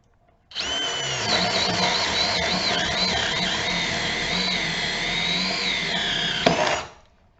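Ryobi cordless drywall screwgun with a half-inch paddle bit driving into 4x4 pressure treated pine, a single sustained high motor whine for about six seconds that shifts slightly in pitch under load, then stops abruptly.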